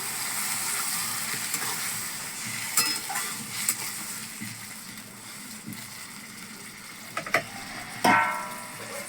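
Water poured into a pan of frying mustard and poppy seed paste for kalla sorshe posto gives a soft, continuous sizzle, with occasional faint ticks and clinks over it.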